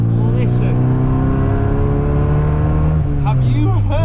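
A car engine revs strongly and steadily close by, a loud sustained harmonic drone that rises slightly and then dips near the end, with faint chirps on top.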